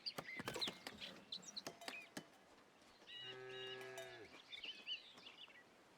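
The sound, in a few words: person imitating a cow mooing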